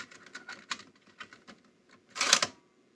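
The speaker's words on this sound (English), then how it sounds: "let's poke in this Sony tape and see what happens" Plastic clicks and clacks come as a Sony tape is pushed into a Sony DSR-570 DVCAM video camera, a quiet series of small taps followed by a louder rustling mechanical slide and thunk near the end.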